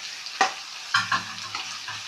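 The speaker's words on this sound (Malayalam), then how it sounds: "ഇതൊക്കെ ഒന്ന് ഫ്രൈ ആവണ്ടേ" Crushed ginger, garlic and slit green chillies fry in hot oil for a potato and egg curry, a steady close sizzle broken by a few sharp stirring scrapes, with no talk over it.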